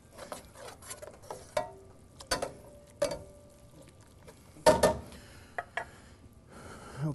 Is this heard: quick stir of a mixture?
yes